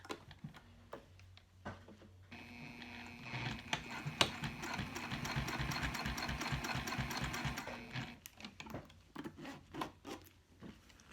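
Sewing machine stitching a zipper seam on Sileather fabric, a fast rhythmic run of needle strokes for several seconds, framed by softer clicks and handling noises before and after.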